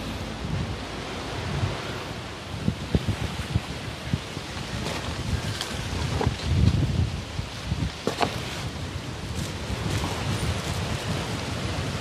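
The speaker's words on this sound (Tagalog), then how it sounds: "Ang lakas ng hangin." Strong wind roars steadily into the microphone, with rustling gusts and a constant broadband rush throughout.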